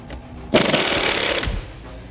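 An Ingersoll Rand Hammerhead impact ratchet loosens an alternator bolt, a loud rapid rattling burst of hammering lasting about a second, close by, with quiet moments before and after.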